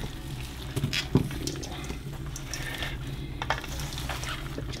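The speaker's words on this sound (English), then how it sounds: "So now I need to stir this up." Jamaican-style curry lamb being stirred in a pot, a soft sizzle with scraping and clinks of a utensil against the metal, close and quiet.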